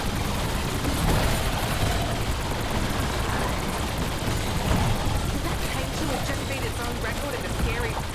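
Automatic rocket launcher firing nonstop at zombies in a shooter game's zombies mode, a dense, loud barrage of blasts and explosions layered over game noise and a talking voice throughout.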